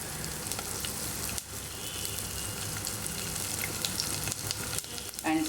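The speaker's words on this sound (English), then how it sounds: "Now fry these, and now add some curry leaves" Crushed garlic and red chilies frying in hot oil for a tempering, a steady close sizzle and crackle running throughout with no voices.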